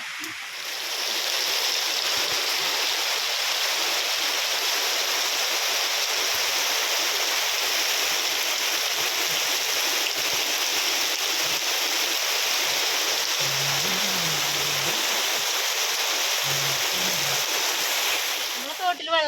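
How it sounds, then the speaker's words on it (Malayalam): A steady, loud roar of heavy rain fills the whole stretch without letting up, with a faint low hum briefly showing beneath it near the end. "ഇത്ര സ്പീഡിൽ ഇത്ര ശക്തിയിൽ മഴ പെയ്തിട്ടില്ല"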